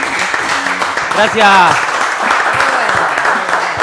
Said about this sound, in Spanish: vamos a darle un fuerte aplauso a los muchachos